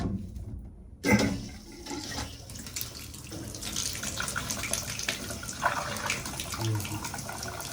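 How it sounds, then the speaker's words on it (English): A tap turns on and water runs steadily into a sink, a continuous rushing splash heard up close. "Turn on the water."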